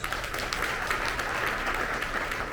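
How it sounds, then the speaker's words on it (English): A luncheon audience at an awards event gives a big round of applause, a dense, even wash of clapping filling the room without a break, moderately loud and sustained. "let's give them a big round of applause"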